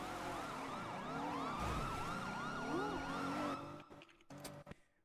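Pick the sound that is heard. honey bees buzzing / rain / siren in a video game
siren in a video game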